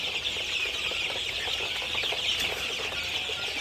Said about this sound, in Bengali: এখন দেখাবো অরিজিনাল টাইগার মুরগির বাচ্চা